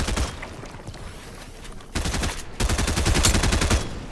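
Rapid automatic gunfire in Fortnite during a 2v2 zone war: close, loud bursts of fast repeated shots, a short spray early, then two sustained volleys in the second half.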